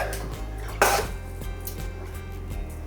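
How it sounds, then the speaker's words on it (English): A metal skillet is lifted and handled on a kitchen stovetop during cooking: one brief, fairly loud clank near the start, then quiet low kitchen hum with no talking. "then we're going to grab our other skillet"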